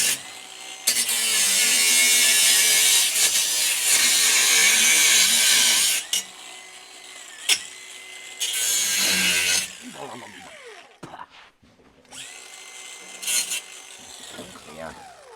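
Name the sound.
power tool cutting welded Toyota Hilux part in half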